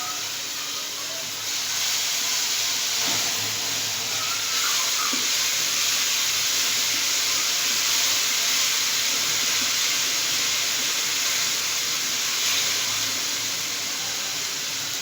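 Ginger garlic paste sizzling in a hot pan, a steady broadband hiss that holds evenly for the whole stretch, fairly close and with no talking.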